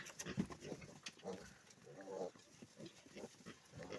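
Vietnamese pot-bellied piglets grunt and squeal in quick, irregular bursts, fairly quiet, with a voice faintly mixed in.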